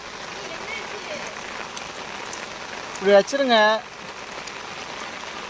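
Steady rain patters on a surface and a parked motorbike throughout, with a brief spoken phrase near the middle.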